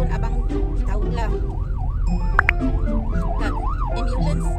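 A wailing ambulance siren rises and falls in steady cycles beneath continuous talk and household background noise, sounding moderately distant throughout.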